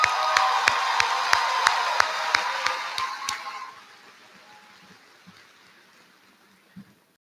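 Applause at an NHS graduation ceremony: a broad wash of crowd clapping with a few sharp regular claps standing out over the first three and a half seconds, then fading into quiet room noise with a stray thump near the end.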